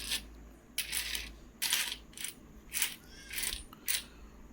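Indian 2021 five-rupee coins from the Mumbai mint being handled, giving a series of bright metallic clinks and jingles in short bursts about every half second, close and clear with no talking.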